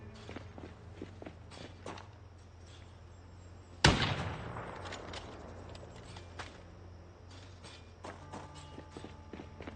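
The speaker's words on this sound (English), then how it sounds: "Pay attention to those footsteps and those mouth breathing noises." Footsteps from the video game Project Zomboid, a soft steady run of steps under ambient game noise, with one sharp loud impact partway through that fades out slowly.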